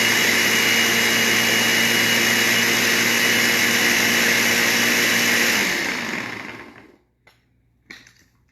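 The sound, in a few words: blender running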